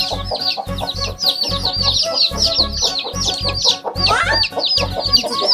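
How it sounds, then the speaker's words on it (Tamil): Hen clucking close by around a small chick at home, repeated short clucks and chirpy calls over a low rhythmic thumping background, with no talk. "கோழி வருதுடா கொத்த போகுது."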